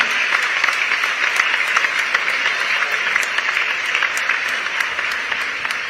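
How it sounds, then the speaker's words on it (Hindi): Loud, sustained applause from a large crowd at a state-level workers' conference in Raipur, continuous dense clapping with scattered sharper claps standing out, filling the whole stretch without pause. "आप सभी से निवेदन, जोरदार तालियां।"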